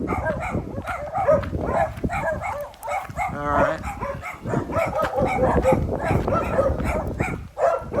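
Several dogs bark and yip repeatedly in overlapping bursts near houses along a trail in the Philippines, with someone speaking briefly in between.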